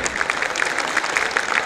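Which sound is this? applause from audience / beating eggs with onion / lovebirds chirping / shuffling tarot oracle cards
applause from audience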